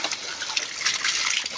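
Clean water from a gravity-fed pipe in a garden runs in a steady close splashing gush, bright and continuous throughout, with no talking.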